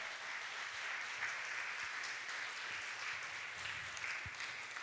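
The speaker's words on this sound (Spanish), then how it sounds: "Vamos a darle un buen aplauso al Señor." A church congregation applauds together, a dense, even wash of clapping that holds steady and fairly quiet from start to finish.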